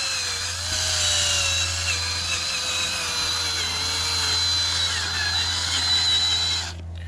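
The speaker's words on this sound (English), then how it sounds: "I can control the drill better" A power drill with a sanding attachment whines steadily against a PT Cruiser headlight lens with wet sandpaper, a constant high-pitched drone with a low hum underneath, running for several seconds before stopping abruptly.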